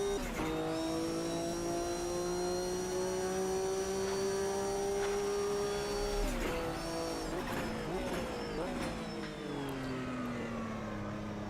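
Group C prototype race car, a Sauber, in the racing game Automobilista 2: a loud engine drone holds steady, then drops and climbs through gear changes with whining harmonics, continuous and close throughout.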